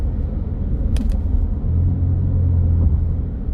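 Steady low road rumble inside a 2025 Ford midsize truck driving over cracked pavement and potholes, with a faint brief rattle near the start and no talking.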